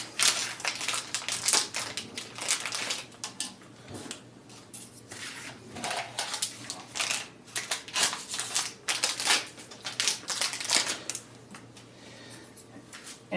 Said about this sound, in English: they're in a plastic bag here, so you can just obviously just cut them open